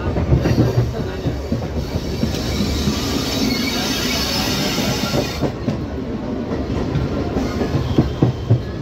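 Indian Railways local train near Patna running after leaving Danapur, heard from on board as a loud, continuous rumble with rhythmic wheel clatter and brief squeals, no talking.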